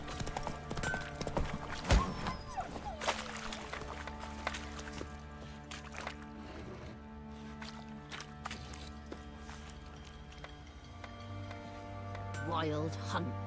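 Horse hooves clip-clop in The Witcher 3 video game in scattered, uneven beats, fairly quiet beneath game music and a character's spoken lines.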